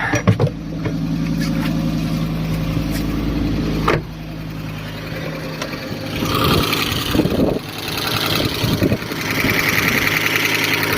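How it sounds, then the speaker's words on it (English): A Fiat Stilo Abarth engine idles steadily at close range with a fine ticking clatter of hydraulic lifter noise running through it, broken by a few thumps and rustles. "A lot of hydraulic lifter noise, which you can expect, of course, after so many years"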